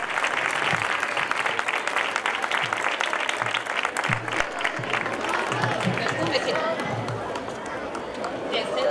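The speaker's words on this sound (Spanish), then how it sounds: "Un aplauso." Audience applause for the town crier at the coronation of the 2014 Facinas fair: a dense, sustained wash of clapping from a crowd that holds steady throughout, with faint murmuring voices mixed in.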